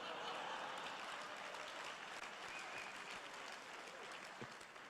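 A large crowd at CPAC 2022 in Orlando applauding loudly, a dense, sustained wash of clapping and cheering that holds steady and slowly tapers, with no clear talking.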